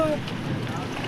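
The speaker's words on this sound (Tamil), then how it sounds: "காற்று" Strong wind at sea buffets a fishing boat, a loud, steady roar of gusts and water close to the microphone throughout the brief moment, with a voice partly audible beneath it.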